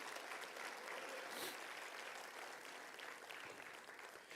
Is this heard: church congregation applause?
yes